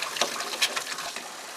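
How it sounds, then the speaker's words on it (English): Kitchen faucet running while air purges from the pipes after a water heater element replacement, giving a steady broadband hiss of flowing water with small irregular spurts and sputters throughout. "Turn on your kitchen faucet and let it work that air out."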